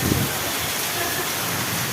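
Sudden rain falling in Padampur, a steady, dense hiss that fills the whole clip at an even level, with no voices standing out.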